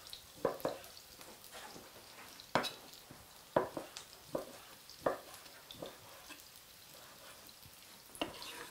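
Strips of chicken frying in a pan for fajitas, with a soft steady sizzle broken by sharp clatters of stirring against the pan, close by.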